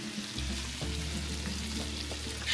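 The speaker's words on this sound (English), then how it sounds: "Sizzle." Paella sizzles and bubbles in a hot pan after water is added, a steady crackling hiss with a low hum underneath.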